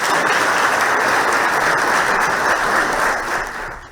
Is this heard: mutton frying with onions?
no